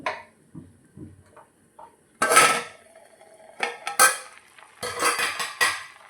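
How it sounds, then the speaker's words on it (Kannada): Metal lid set down over a pot of freshly cooked ration rice in a home kitchen, giving a few loud clattering clanks in separate bursts after quiet, faint handling sounds. "ಅನ್ನದ ಮೇಲೆ ಮುಚ್ಚಿ ಸ್ವಲ್ಪ ಹೊತ್ತು ಇಷ್ಟು ಇಟ್ಬಿಟ್ರೆ ಅನ್ನ ಉಮ್ಗೋತೈತಿ."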